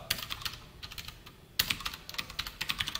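Java code is typed on a computer keyboard in quick, close clattering bursts of keystrokes, broken by a brief pause before a louder flurry resumes.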